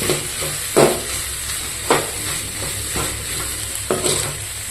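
Onions sauté in a pan for a spicy pepper chicken gravy, giving a steady close sizzle broken by a few sharp scraping stirs about once a second.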